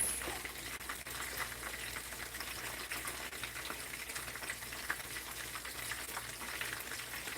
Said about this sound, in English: that's in and frying.